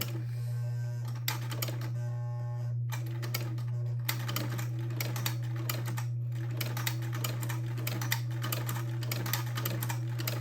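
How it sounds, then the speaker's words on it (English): A vintage buttonholer attachment on a sewing machine stitches a tiny buttonhole, a rapid, fairly quiet mechanical clatter of needle strokes over a steady motor hum, running continuously with brief hesitations. "very kind of slowly, I'm going to make a buttonhole"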